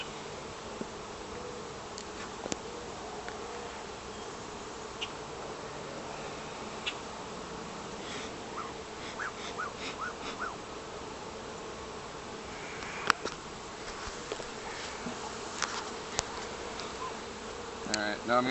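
Honeybees swarm around an opened hive with a hive top feeder removed, giving a continuous soft buzzing hum with occasional nearby rustles and faint ticks.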